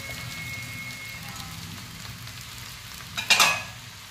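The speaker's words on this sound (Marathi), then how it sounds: "मिरची पण फ्राय झाली, बटाटे पण फ्राय झाले मस्त." Sabudana, potatoes and green chillies frying in hot oil in a home kitchen, giving a steady soft sizzle throughout with a brief louder burst of crackling near the end; no talking.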